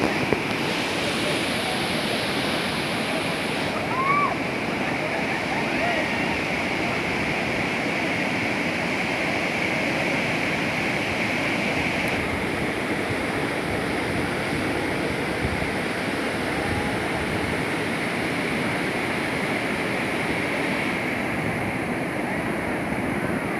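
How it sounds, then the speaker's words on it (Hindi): Rajdari waterfall at Chandauli roars in a continuous, dense rush of falling water, steady and loud throughout with no pauses. "स्थान विशेष पर विभिन्न दशाओं में गिरता हुआ पानी एक बड़े झरने को बनाता है और पुनः इसकी आवाज़ मैं आपको सुनाता"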